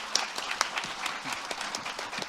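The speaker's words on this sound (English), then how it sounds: "A warm round of applause for everyone." Audience applause closes a panel session on reducing stigma: a steady wash of many hands clapping, moderately loud and continuous throughout, with a few sharper claps standing out.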